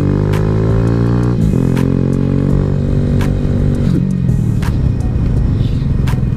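A TW200 motorcycle with big tires riding over dirt jumps: a loud, close engine revving and climbing in pitch, dropping suddenly, then revving again amid clattering bumps and sharp knocks.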